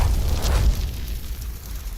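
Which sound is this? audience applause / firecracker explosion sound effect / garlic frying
firecracker explosion sound effect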